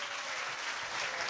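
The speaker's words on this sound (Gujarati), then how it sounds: "જોરદાર તાળીઓ સાથે." Audience at a Jain diksha celebration applauding, a brief, faint, steady wash of many hands clapping in a large space.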